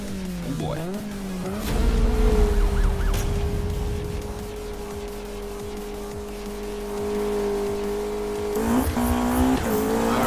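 McLaren 570S in Need for Speed 2015, engine droning at steady revs with a rising and falling pitch, tire noise and squeal, then a sharp rev climb near the end.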